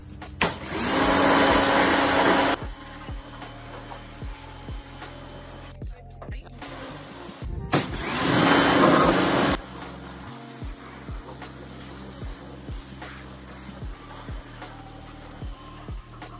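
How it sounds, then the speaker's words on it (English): A pressure washer blasts a dirty barbecue grill in two loud bursts of steady, hissing spray, separated by a quieter stretch of clicks and handling noises. "Now for the fun part, pressure washing."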